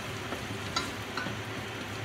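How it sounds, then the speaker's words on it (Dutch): Small meatballs browning gently in a pan for tomato soup, a soft, quiet sizzle and light crackle with a few faint pops, steady and low in level with no talking. "Dan ga ik die heel eventjes aanbraden zachtjes."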